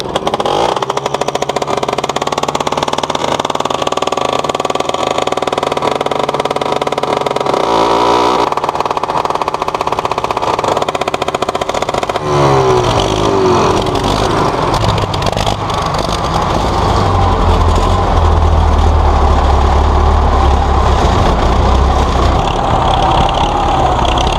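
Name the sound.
1973 Belarus MTZ-50 four-cylinder diesel tractor cold starting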